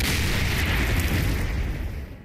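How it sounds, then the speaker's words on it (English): A huge explosion as a creature dies in Cataclysm: Dark Days Ahead, a loud, dense rumbling boom that fills the short moment and fades slightly at the end, with no speech. "it dies in a huge explosion"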